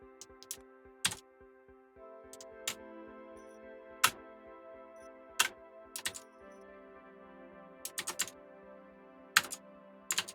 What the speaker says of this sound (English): I'm pressing random keyboard shortcut that I'm not trying to do